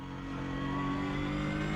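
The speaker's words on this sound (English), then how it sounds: "The initial shift into a gear sounds a bit like a witch." Race car engine in the Automobilista 2 racing game, with straight-cut gears: a loud, continuous, tonal engine note that rises slightly as it revs through a gear shift, with no talking over it.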